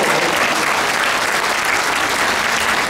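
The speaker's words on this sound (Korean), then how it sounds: "박수 쳐요." A dense, steady wash of applause from a large congregation of pastors at a patriotic prayer rally in Busan, continuous and loud throughout with no voices rising above it.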